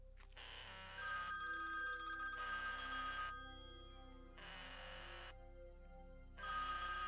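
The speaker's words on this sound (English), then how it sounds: "See the ant change when the phone rings." A phone, an iPhone set among ants, rings with a loud electronic ringtone in repeated bursts of about a second or more separated by short gaps, alone and close with no talking.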